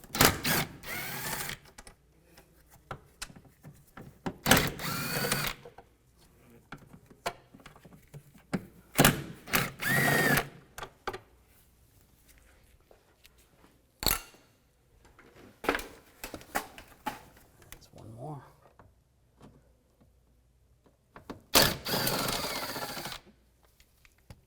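A 2004-2010 BMW X3 heater blower motor has its bolts removed with a T30 socket, giving repeated loud, close bursts of buzzing power-tool whir, broken by gaps of near silence and small clicks.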